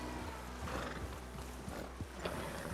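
Horses swimming toward Sisika Island in Red Dead Redemption 2, including a Missouri Fox Trotter and a tiring Morgan, with dense, steady splashing and snorting close up that continues without a break.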